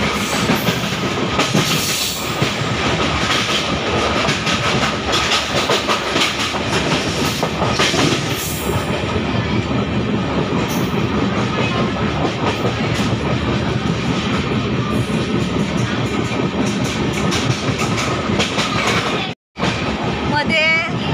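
A passenger train travels from Madgaon, Goa toward Ratnagiri, a loud steady rumble with rhythmic clickety-clack of wheels, heard from onboard, with people talking in the carriage.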